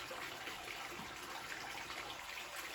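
Water runs steadily from a tap, filling a container in a workshop, a soft even rushing hiss with no pauses.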